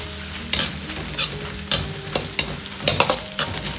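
Lean pork slices stir-fry with red Sichuan peppercorns in a hot wok, giving a steady loud sizzle broken by repeated scraping clatters of the spatula, with no voices.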